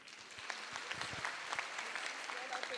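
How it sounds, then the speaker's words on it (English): An audience claps at a school annual day, a quiet, distant patter of scattered hand claps with a few sharper individual claps standing out. "please give a round of applause to all of them"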